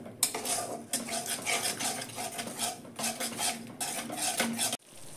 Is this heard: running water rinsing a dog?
no